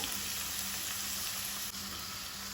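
Onion with ginger garlic paste fries in a pan for Goan chana masala, a steady, faint sizzle holding evenly throughout with no voices.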